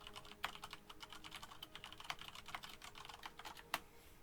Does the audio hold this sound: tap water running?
no